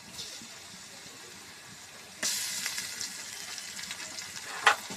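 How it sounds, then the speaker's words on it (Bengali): Cinnamon, cardamom and garlic paste hit hot oil with fried chopped onions, bursting into a loud, steady sizzle partway through after a quiet start, with a brief sharp crackle near the end. "মশলাটা একটু ভাজবে নি।"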